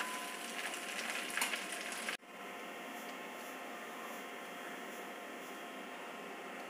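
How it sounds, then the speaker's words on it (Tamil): Curry leaves sizzle in hot oil over a slow flame for a pickle, a steady soft frying hiss that drops abruptly and continues at a lower, even level. "இதை நல்லா எண்ணெயில் ஃபுல்லாக பொரிஞ்சு வரா மாதிரி நம்ம வதக்கிக்கலாம்."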